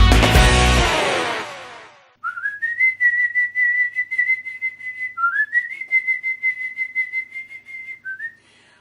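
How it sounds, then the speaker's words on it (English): A person whistles the Wonder Woman film theme, a clear close melodic line of held and sliding notes following a brief loud burst of other sound at the start. "I'm probably not whistling the music score of Wonder Woman right"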